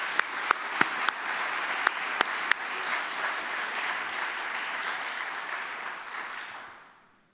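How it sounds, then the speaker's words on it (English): An audience at a building dedication ceremony gives sustained applause, with a few sharp early claps standing out before the clapping settles into an even roar and fades away. "let's give Ed another round of applause."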